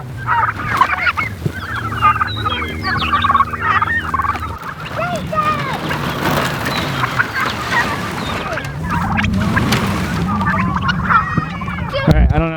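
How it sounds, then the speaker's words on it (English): Flock of domestic turkeys on a homestead gobbling and chirping continuously, close and busy, with a person talking over part of it. "I don't know if you guys can hear these turkeys. They are just super happy."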